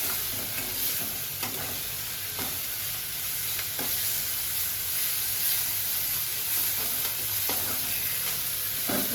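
Wild leafy greens (ghol) being sautéed with cooked mutton in a pan, a steady sizzle and hiss with repeated scraping stirs of a spoon against the pan, close and continuous, no talking.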